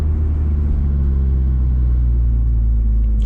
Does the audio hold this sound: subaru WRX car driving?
yes